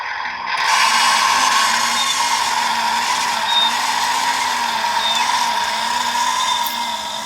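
A Testors Dodge 426 Hemi V8 model engine runs with a steady mechanical whir and ratcheting buzz, close and loud, holding an even drone with a slowly wavering low hum and faint squeaks.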